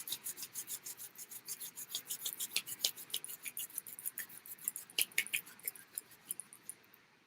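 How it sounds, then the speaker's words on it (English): Hands rubbing together during a reiki meditation: a steady, close, dry rasping made of quick repeated strokes in an even rhythm, alone in a quiet room. "I'm inviting you now to rub your fingers together,"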